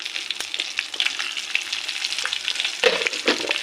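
Cumin, mustard seeds and dried red chillies frying in a couple of spoons of hot oil, a steady crackling sizzle with sharp pops and spatters throughout, heard up close with no talking.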